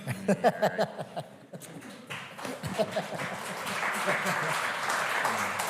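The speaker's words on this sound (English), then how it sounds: "So I hope that you all clap real loud for him when he comes up here." Audience applause at a conference builds from scattered claps to steady clapping, with speech and talk heard over the early part.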